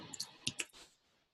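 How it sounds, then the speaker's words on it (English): A few quick clicks of typing on a computer keyboard, close and soft, with several sharp taps in a short burst that then fade into quiet. "I'll even type it up."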